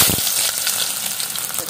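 Onion hits hot oil in a pan for a Malvani-style squid dish, an abrupt loud hiss that settles into a dense, continuous close sizzle, no voices.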